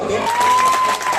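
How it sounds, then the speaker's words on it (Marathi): Brief burst of clapping from a village crowd at a Shiv Jayanti lecture, a short swell of applause with some voices mixed in. "टाळ्यांचा आवाज"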